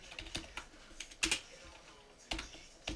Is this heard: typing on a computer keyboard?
yes